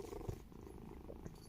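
A cat purrs softly and steadily up close, a low continuous rumble with faint background noise and no talking.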